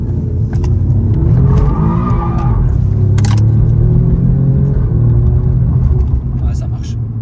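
A car engine rumbles and revs steadily while driving, heard from inside the cabin under conversation in French, with a few light clicks and rattles.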